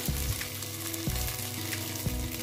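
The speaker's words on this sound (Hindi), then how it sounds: "हम बना रहे हैं हल्का सा घी डाल के इसको हल्का सा भूनेंगे" Rice roasts in ghee in a handi over a wood-fired stove for Rajasthani kheer, giving a continuous close sizzle with periodic scrapes of a spoon stirring the grains.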